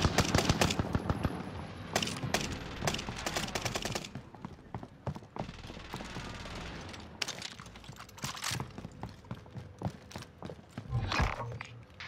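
Call of Duty: Modern Warfare gunfire comes in dense, rapid bursts, then thins into scattered single shots and pops before another close volley near the end.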